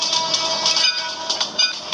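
A train passes at a crossing in a Bangladeshi train simulator game, producing a continuous loud rolling rumble and rattle with no voices.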